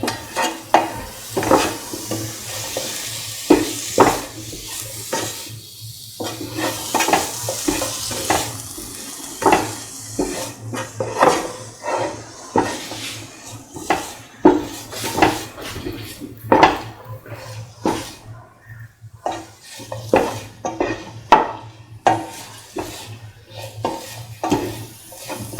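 Plantain fried rice stirred and mixed in a pan, a spoon repeatedly scraping and clinking against the metal with a soft sizzle beneath, in irregular loud strokes.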